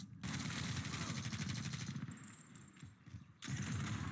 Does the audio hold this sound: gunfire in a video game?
yes